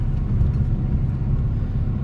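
Heavy road traffic in the Philippines gives a steady, dense low rumble of car and bus engines idling and creeping along, with no clear individual vehicle standing out.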